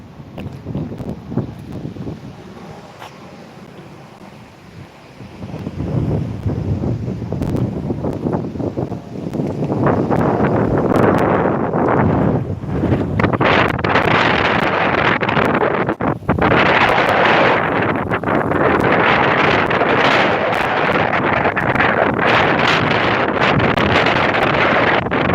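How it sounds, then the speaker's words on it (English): Cold wind blows hard outdoors, buffeting the microphone in loud, roaring gusts that build after a quieter start and stay strong and continuous, briefly dipping once. "This wind blowing."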